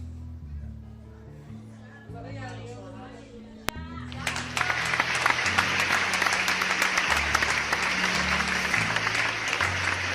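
A church congregation breaks into applause during a sermon, a sudden loud wall of clapping that follows a preacher's voice and continues steadily to the end.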